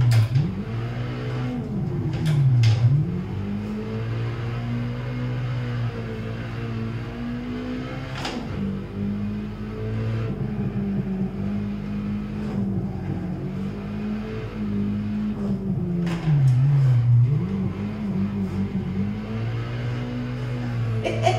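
A Nissan Silvia S15 engine in Assetto Corsa revs hard and continuously through a drift, its pitch swooping up and down with throttle changes, loud and steady with no talk.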